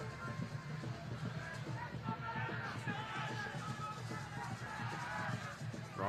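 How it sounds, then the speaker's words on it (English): A steady, dense roar from the crowd at a Belize vs Bermuda Concacaf Nations League football match, with honking horns mixed in. It holds unbroken and fairly loud for the whole stretch. "The crowd getting into it."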